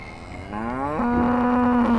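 A cow on a Texas ranch moos in one long, loud, close call that rises in pitch and then holds steady, with no voices over it.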